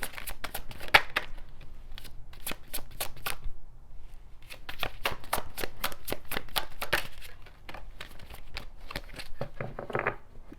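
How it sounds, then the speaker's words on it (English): A deck of tarot cards is riffled and shuffled over and over, sharp rapid flutters in quick bursts separated by short pauses, close and clear with no talking. "One more shuffle."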